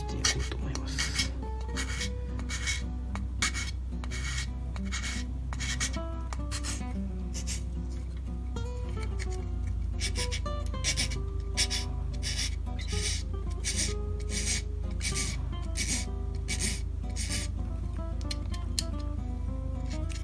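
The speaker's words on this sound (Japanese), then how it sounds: "次にね、やすり書きを地道にね、していこうと思います" Rhythmic rasping of a file scraping back and forth on a plastic model part of an Autobianchi, steady strokes repeating close up over a low hum, no talking.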